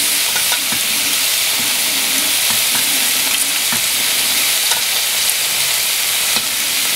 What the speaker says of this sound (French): quand ça sera bien cuit, enfin ça sera bien frit, parce que c'est des oignons un peu frits